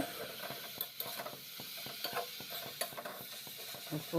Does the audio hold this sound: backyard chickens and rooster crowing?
no